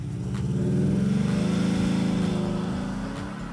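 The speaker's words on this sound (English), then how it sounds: "the diesel V6 under the hood sounds like it's packing some leftover Ferrari genes" A Maserati Levante's diesel V6 pulls with a deep, continuous growl that swells in pitch as it accelerates, then eases slightly, heard up close with no voices.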